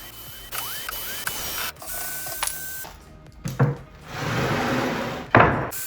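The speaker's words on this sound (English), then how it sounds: "To separate the boards from the rotten structure underneath, I had to first remove every single screw." Old stainless steel screws being backed out of weathered deck boards, with a run of ratcheting, clicking mechanical bursts and squeaks broken by pauses, close and moderately loud, and no talking.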